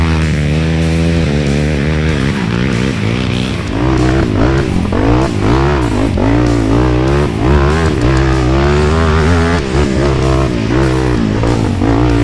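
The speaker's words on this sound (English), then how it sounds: "Quad is just not pulling right now. I think the tires are filled with mud. I'm giving it everything it has," A quad bike on a muddy hill climb roars loud and close, its engine held at high, strained revs with surging pitch as the mud-clogged tires spin, continuous for the whole stretch.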